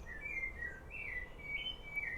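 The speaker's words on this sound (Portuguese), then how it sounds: "Olha o canto dos pássaros para vocês de novo, meninas." Birds sing faintly in the distance, a thin repeated whistling chirp rising and falling over a soft, low background hum, with no one talking.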